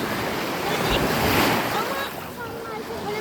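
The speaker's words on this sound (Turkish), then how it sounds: "Biraz rüzgar var evet." Rushing wind and breaking surf fill a windy beach scene, with a surge of waves in the middle and faint voices of people playing volleyball underneath.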